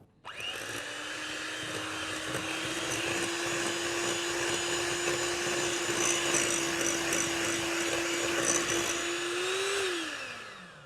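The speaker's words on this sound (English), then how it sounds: "Whisk the brown sugar with the butter." An electric whisk creams butter and brown sugar for a maple sponge cake, producing a loud, steady motor whine close by for about ten seconds before it spins down and stops.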